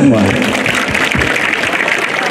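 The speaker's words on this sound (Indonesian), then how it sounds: "Tepuk tangan untuk semua." Students at a school Pancasila student-profile camp break into applause, a dense, steady wash of clapping that runs the whole stretch with voices mixed underneath.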